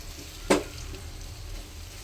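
Banana wilting in a hot pan for kaya churuttu, a soft steady sizzle with one sharp clink near the start, close and unbroken, no talking.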